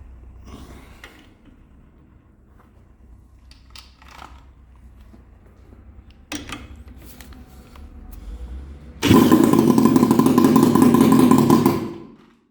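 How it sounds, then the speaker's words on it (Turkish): Peugeot twin-cylinder motorcycle engine bursts into a loud, steady running roar at its first start after several seconds of quiet shop clatter, then cuts off abruptly near the end. "hadi biraz seslenelim makine abi"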